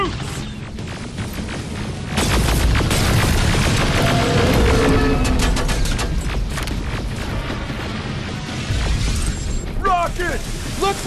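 Heavy gunfire and explosive booms in the shooter Terminator Resistance, dense automatic bursts and blasts sustained at high volume amid mechanical clatter, with voices shouting during the fight.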